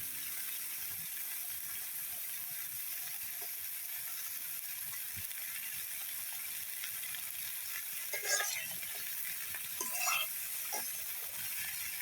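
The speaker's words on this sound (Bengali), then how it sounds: "সবজিটা ভালোভাবে কষিয়ে নিতেছে" Vegetables being sautéed and stirred in a pan: a faint, steady hiss of frying with two brief bursts of spatula scraping near the end, and no voices.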